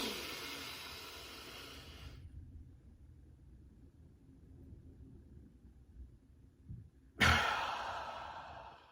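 A long, slow exhale released through the mouth as part of a wave breathing technique, a soft breathy hiss fading out over two seconds, then near silence before a sudden loud breath near the end.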